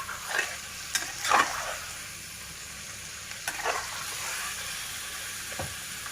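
Chicken fry pieces coated in masala sizzle in a pan while being stirred, with a continuous frying hiss broken by several louder scraping stir strokes, close and with no talk.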